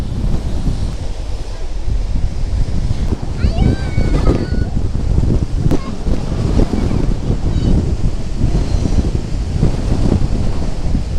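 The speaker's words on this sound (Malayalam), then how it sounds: "കടൽ കാറ്റിന് ഇവിടെ കടലും ചേർന്ന് അടിക്കാണ്ട് അങ്ങോട്ട്." Sea waves and strong wind at Vivekananda Rock in Kanyakumari, a constant loud roar of wind buffeting the microphone over surf, with people talking and a few brief tonal squeaks mixed in.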